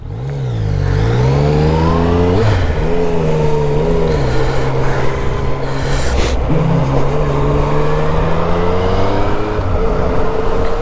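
A 2018 Yamaha MT-09 motorcycle accelerates hard on the road, the engine climbing through the gears in rising revving sweeps with quick shifts, loud and close throughout the ride with wind noise under it.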